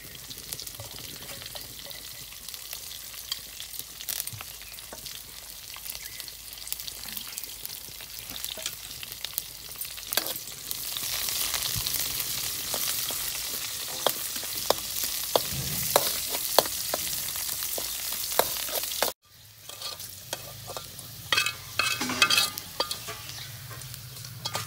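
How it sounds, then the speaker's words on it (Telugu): Onions and mustard seeds sizzling in hot oil for a tempering in a village-style coriander leaf chutney, a steady bright frying hiss with stirring clatter throughout, briefly cut off near the end before resuming. "ఉల్లిగడ్డలు తాలింపు చేసుకోండి"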